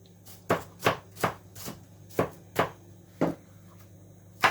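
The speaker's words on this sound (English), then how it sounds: "now you're just going to coarsely, roughly chop this" Knife coarsely chopping vegetables for spicy tomato soup on a board, about a dozen crisp chops in an uneven rhythm, close and clear with no talking.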